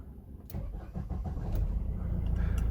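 Vauxhall Vivaro van starting on a newly programmed key: a short starter crank catches into a low engine idle that grows steadily louder and rumbles on close by.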